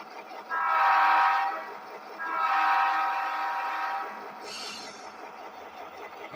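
A GP18 diesel locomotive begins to move, its horn sounding two long loud blasts followed by a shorter higher toot.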